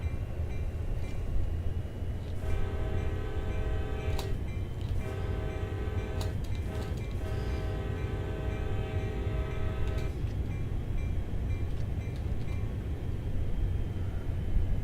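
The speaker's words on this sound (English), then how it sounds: "that is a railroad crossing right there. I am still obligated to honk for it." A steam-era train horn sounds at a railroad crossing in a train simulator game, hauling a coal drag behind Southern Pacific 4449. Three loud sustained blasts sit over a steady rumbling engine and rolling cars, with no talking.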